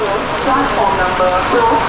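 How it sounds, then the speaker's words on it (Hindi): Heavy rain pours at Saharsa Junction railway station during a Poorabiya Express train journey, a loud, dense, continuous hiss of drops pattering on nearby surfaces. "बहुत तेज सहरसा जंक्शन पर बारिश हो रही है"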